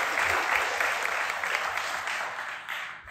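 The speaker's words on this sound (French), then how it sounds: "Un maximum d'applaudissements pour Nicolas, s'il vous plaît." An audience at an AI talk evening applauds steadily, a dense sustained clapping that slowly fades near the end.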